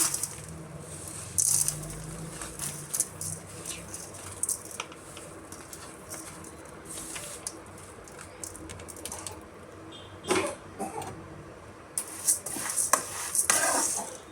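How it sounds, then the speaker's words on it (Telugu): Ingredients are dry roasted in a kadai on low heat for a homemade baby food, a utensil scraping and stirring in irregular bursts with light clinks and faint sizzling between strokes. "ఇప్పుడు ఒక కడాయిలోకి తీసుకొని వీటిని ఫ్రై చేసుకుందాం దీంట్లో వేసేసి డ్రై ఫ్రై అయితే చేసుకుంటున్నా"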